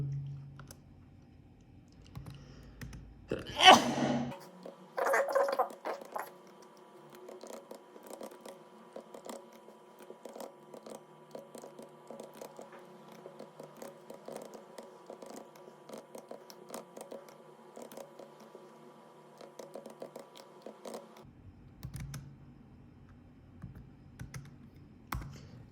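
Fast, steady typing on a computer keyboard, entering sticker colors into a terminal for a 3x3 cube solver, with close, light key clicks running continuously after a brief louder knock.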